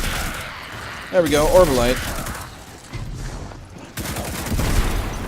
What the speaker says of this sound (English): this is probably my new favorite kinetic auto rifle, we're going to pull this thing out